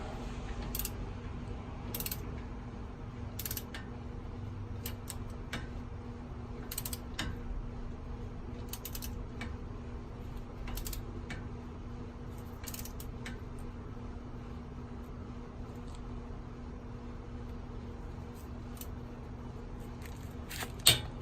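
Ratchet wrench tightening a front strut bolt on a Honda Civic to 67 foot-pounds: rapid, faint pawl clicks in short bursts throughout, close up over a low steady hum, no talking.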